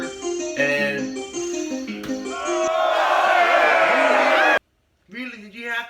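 A single voice imitates a cheering, roaring crowd with shouts and whoops, building into a sustained hoarse roar before cutting off, followed by a brief vocal sound.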